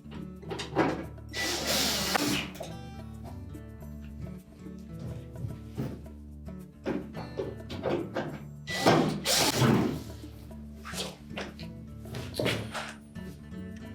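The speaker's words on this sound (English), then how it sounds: "install the 4 screws along the bottom" Screws go into the front panel of a Whirlpool dryer, with close metallic clatter, knocks and brief driving sounds in uneven bursts as the panel is refitted.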